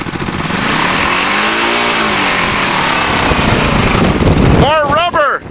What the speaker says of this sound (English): You need to give it gas. Don't be afraid to spin the tires.